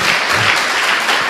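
A church congregation claps continuously, a dense and loud burst of applause throughout.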